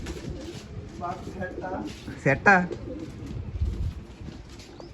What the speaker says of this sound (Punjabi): ਦੋ ਕੁ ਵਿਖਾ ਦਗੇ ਆਪਾਂ ਕਬੂਤਰ